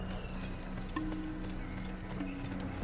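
Hoofbeats of a horse galloping in the Assassin's Creed video game, a steady rapid clip-clop running through the whole stretch at moderate loudness over a continuous game background.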